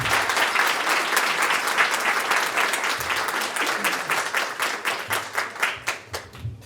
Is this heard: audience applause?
yes